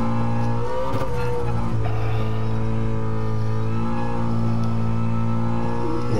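Ford Shelby GT350R on a race track during a lap, its engine holding a loud, steady harmonic drone close by with a brief throttle change near the start and no talking.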